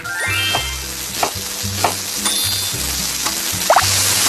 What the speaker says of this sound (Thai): ใส่ลงไปเลยค่ะแล้วก็ผัดค่ะผัด